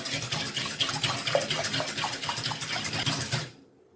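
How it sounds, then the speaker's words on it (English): A whisk beats water, sugar and yeast together in a bowl for donut dough, making quick, steady, sloshing strokes that stay close and fairly loud for about three and a half seconds before cutting off abruptly. "we're going to whisk this to combine properly."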